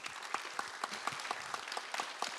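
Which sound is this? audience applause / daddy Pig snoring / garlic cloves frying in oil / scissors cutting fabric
audience applause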